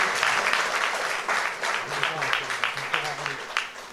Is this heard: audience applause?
yes